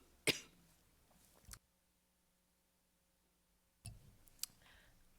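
A person in a quiet meeting room gives a couple of short, sharp coughs, then falls silent for a couple of seconds before another burst of coughing and throat clearing, close and moderately loud.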